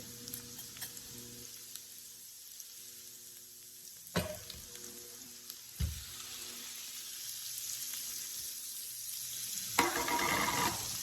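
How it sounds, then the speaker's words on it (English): Shrimp, garlic and onions sizzle steadily in a hot pan, with a couple of sharp clatters as ingredients drop in and a louder burst of frying near the end, no talking. "After those onions have been sauteing for about a minute or so, I am going to go ahead and add my garlic and my shrimp at the same time."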